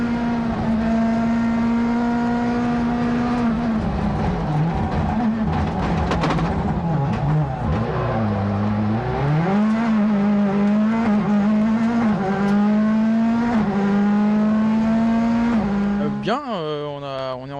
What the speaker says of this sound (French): Julien Morin à l'image justement sur sa Ford Fiesta.